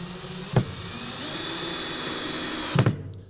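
A power drill drives 1.5 inch screws into wood for an end table build, with two short loud bursts at the start and end of a steady whirring motor drone, close by.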